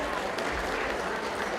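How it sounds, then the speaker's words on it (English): A crowd at a Super Smash Brothers state finals awards ceremony gives Bluffton High School a round of applause, dense steady clapping filling the hall throughout without a break. "One more round of applause for Bluffton High School"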